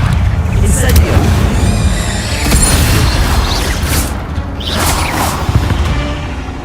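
The Incendio fire spell in a wizard video game erupts in a loud, rumbling whoosh with crackling bursts and booming impacts that roll on steadily for several seconds.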